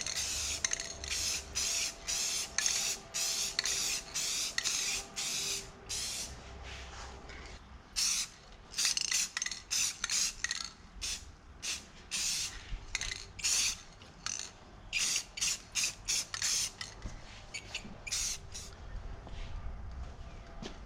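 Spray dye going onto a part of a 1975 Chevrolet Nova in light dusting coats, heard as a long series of short hissing aerosol bursts close by, some quick and clustered, with brief pauses between.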